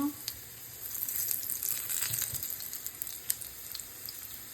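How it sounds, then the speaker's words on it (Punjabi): Cumin seeds sizzle and crackle steadily in hot oil in a pan, the first step of a stuffed bitter gourd dish; a dense, close frying hiss with small pops runs throughout, no voices. "ਦੇਖੋ ਕਿਦਾਂ ਤੜਫੜ ਤੜਫੜ ਕਰਨ ਲੱਗਿਆ ਜੀਰਾ"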